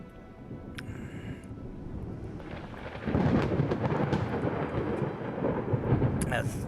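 Stormy weather in the naval video game Ultimate Admiral Dreadnoughts, with rough seas and darkening skies: a steady wash of rain and rumbling thunder that swells louder about halfway through, with a brief high electronic tone near the start.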